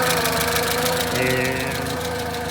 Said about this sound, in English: that is the running Crosley CoBra engine